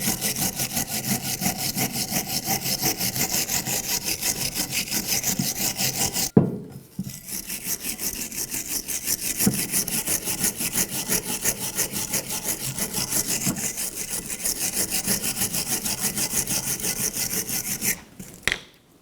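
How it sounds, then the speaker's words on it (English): A wire brush scrubs corrosion off the rear brake caliper bracket of a 2006-2010 BMW 550i, a steady rapid rasping back-and-forth that is close and loud, with one brief pause midway and a stop near the end. "Just take a wire brush, just get some of the corrosion off."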